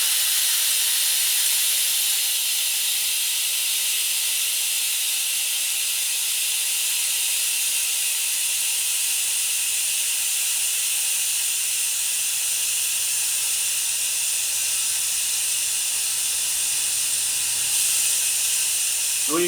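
An air suspension dump box on an Audi C7 A6/S6/A7/S7/RS7 releases air in a continuous, steady hiss, loud and close, lasting the whole stretch with only a faint clunk near the end.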